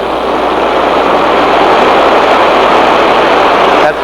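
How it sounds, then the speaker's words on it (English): A steady, loud, continuous roar from a powerful brass brazing torch flame set up for fillet brazing on a lugless bicycle frame, holding constant for several seconds before cutting off sharply at the end. "I like to have quite a bit more force in my brass brazing flame"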